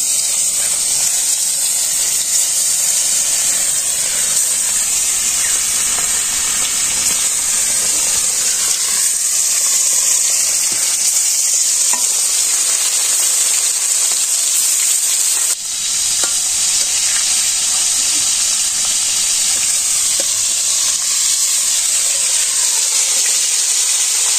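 Spiced fish pieces fry in hot oil in a village kitchen in Bangladesh, a loud, close, unbroken sizzle and hiss that holds steady throughout with no one speaking.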